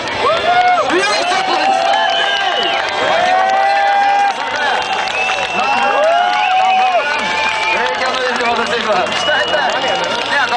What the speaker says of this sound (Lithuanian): O, tikras garsas, jūsų aplodismentai!